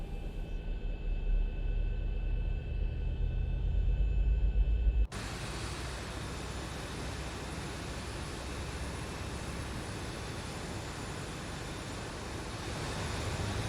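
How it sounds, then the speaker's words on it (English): A Boeing 737-700 engine number 1 spooling up during start in a flight simulator game, a low rumble and whine that shifts abruptly into a broad steady roar, continuous and loud with no speech. "starting engine number 1"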